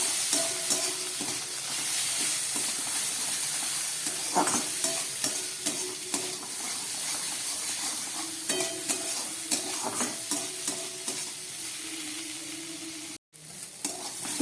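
Onion, green chili and tomato frying in a pan, continuous sizzling with repeated scraping stirs of a spatula against the pan, close and steady, briefly cutting out near the end.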